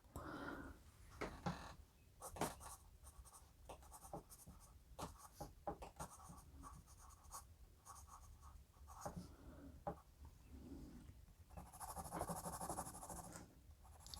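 A Berol Eagle recycled graphite pencil scratches across paper in short, uneven strokes and taps, close and quiet, with brief pauses between bursts of writing.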